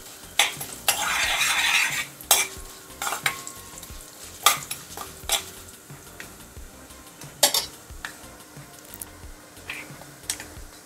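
Urad dal roasts in a pan for vermicelli upma, with a soft sizzle and the repeated scrape and knock of a spoon stirring against the pan, close and fairly loud, in irregular bursts.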